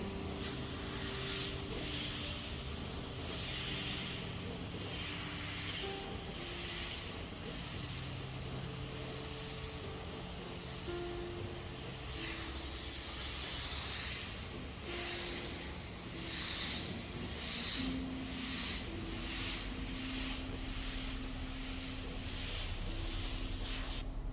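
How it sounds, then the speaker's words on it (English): A Badger Patriot 105 airbrush sprays paint in a steady, close hiss, broken by short on-off bursts as the trigger is worked and the pressure adjusted, with no talking over it. "It sprays out quite a bit of paint, so let me just turn this pressure down a little bit."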